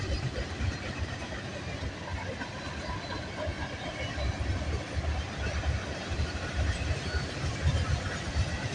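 Canadian freight train 119 rolling past on Canada Day, bound for Edmonton, Alberta, a steady broadband rumble with low rail clatter holding near and constant throughout, no voices.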